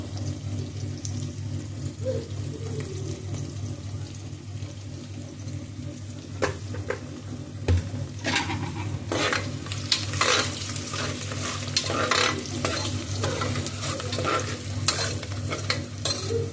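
Food frying in a pan in a home kitchen, a steady low sizzle with a background hum, broken midway by a run of close scraping and clinking stirring strokes, with no speech.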